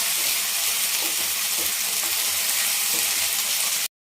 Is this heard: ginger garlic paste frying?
yes